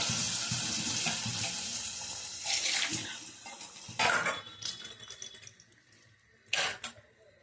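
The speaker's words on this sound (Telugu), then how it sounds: "పులుసు అయితే పోసానండి." Broth pours into a pot of drumstick, tomato and dried fish curry in a kitchen. The liquid splashes in uneven bursts, with a few sharp sloshes and quieter gaps between them.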